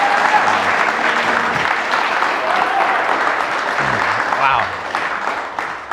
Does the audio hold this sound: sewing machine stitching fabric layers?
no